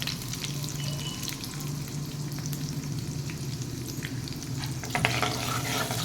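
Turmeric and asafoetida dropped into hot oil already holding curry leaves and chillies, crackling in a constant close dense sizzle with a brief louder spatter near the end.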